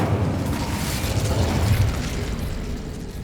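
A fiery Incendio spell blast in Hogwarts Legacy bursts with a dense, roaring whoosh that lingers for a few seconds before fading, heard alone.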